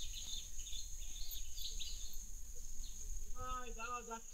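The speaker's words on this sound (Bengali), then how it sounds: "জঙ্গলে একটা সুন্দর মিউজিক হয়, ঝিঝি পোকা, পাখি" Crickets and birds in a jungle near Taki, with a constant high insect drone, scattered bird chirps and a burst of rapid repeated calls near the end, heard alone.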